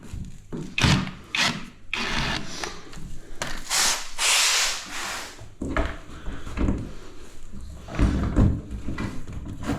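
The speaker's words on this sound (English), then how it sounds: "Unscrew it all the way." Unscrewing a screw from a DIY door, with a screwdriver or drill giving several short bursts of grinding, ratcheting noise between gaps and scraping of wood, close and fairly loud.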